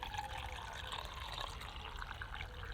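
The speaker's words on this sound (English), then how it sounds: "Add some water in" Water poured from a bottle into a small metal camping pot set on a cheap stove, a steady close trickle and splash running throughout with no talking.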